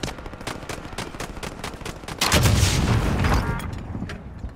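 Gunfire and heavy RPG explosions in Call of Duty: steady rapid shots give way to a louder, deeper booming blast midway that rumbles on before easing off.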